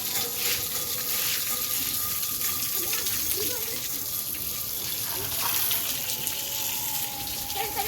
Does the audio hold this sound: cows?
no